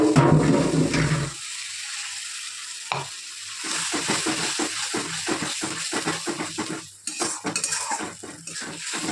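Water splashes and hisses into a hot pan of chili paneer in a loud, rushing burst lasting about a second, then a spoon scrapes and clinks against the pan in quick, uneven strokes over a soft simmer.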